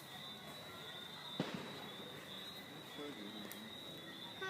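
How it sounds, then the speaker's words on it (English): Fireworks go off at a New Year show: one sharp distant bang with a trailing crackle rises above a steady chorus of night insects, while the rest stays quiet. "Fireworks!"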